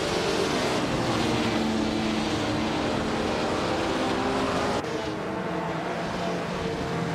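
A pack of vintage race cars, led by a 1955 Maserati 300, roars off the start line at the Cleveland Grand Prix, a dense, continuous wall of engine noise with no gaps.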